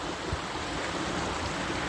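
Steady, broadband rushing of falling water, continuous and fairly close, with no voices.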